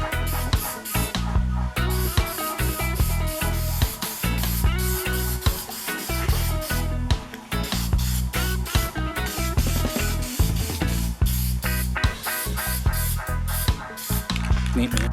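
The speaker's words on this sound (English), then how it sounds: "Lay down a coat of spray paint on it for the night so it can dry overnight" A battery tray for relocating a car battery to the rear gets a coat of spray paint, with loud, close, continuous hissing sprays in repeated pulses.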